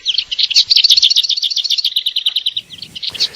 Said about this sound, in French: entendre le chant de la fauvette babillarde